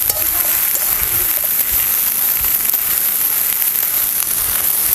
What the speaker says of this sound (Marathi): खाली वर करत सगळं मिक्स करत आहे ना चांगलंसं आपण हे परतून घेऊया